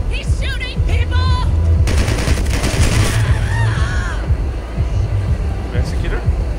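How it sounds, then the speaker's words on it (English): Gunfire bursts out in the violent shooter game Hatred, loud and repeated in rapid, rattling volleys throughout, with excited voices talking over it. "He's shooting people!"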